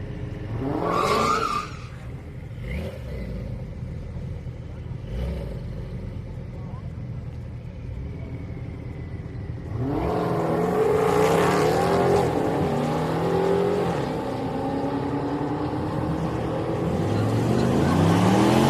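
A Porsche makes a drag racing run at Houston Raceway Park. Faint engine noise and a few brief bursts give way midway to a loud, rising roar that builds to the end, with crowd noise and an announcer's voice.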